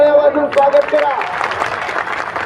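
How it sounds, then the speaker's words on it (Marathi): A crowd at a large protest march claps to welcome the Amravati district president. Close talking comes first, then a dense, broad patter of clapping rises underneath and carries on to the end. "त्यांचं एकदा टाळ्या वाजून स्वागत करा"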